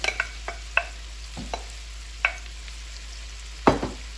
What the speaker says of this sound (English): So saute those for a minute or so